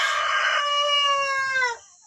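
A rooster among free-range village chickens in a coop gives a single loud, close cock-a-doodle-doo crow that rises, holds and trails off, with no other sound around it.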